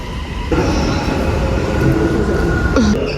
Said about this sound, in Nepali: आउनुभयो हाम्रो मेट्रो।